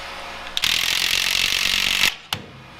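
Close, loud ratchet wrench cranking rapidly to tighten a nut on a wood load strapped to a Toyota, running for about a second and a half, then a single sharp click after a short pause.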